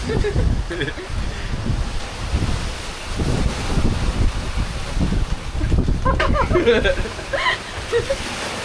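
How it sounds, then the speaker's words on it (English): Large Atlantic waves crash against a sailboat at sea, a broadband rushing and slapping of water with wind noise across the mic, surging in repeated bursts while voices shout and exclaim nearby. "Big waves! Got us!"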